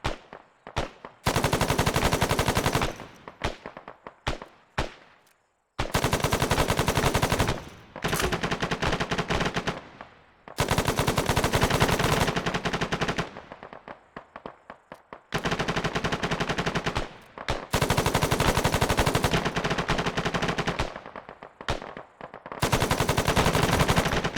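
Long bursts of rapid machine gun fire in an ArmA 3 military exercise, loud and sustained with short gaps between strings of shots, then the gunfire resumes.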